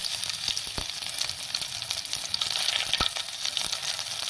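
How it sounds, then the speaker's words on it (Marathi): Cumin and mustard seeds crackle in hot oil or ghee: a dense, steady sizzle with scattered sharp pops, close and loud, with no talking. "तेल किंवा तूप तापवलेले आहे त्यात जिरं मोहरी घातले आहे ते छानपैकी तडतडले पाहिजे"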